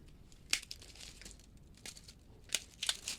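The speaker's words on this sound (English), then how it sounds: "You can just take and snip them all off" Scissors or snips cut brittle wires off a sealed unit being scrapped for copper, a few faint crisp snips and crinkling clicks spaced irregularly, quiet and close with no talk.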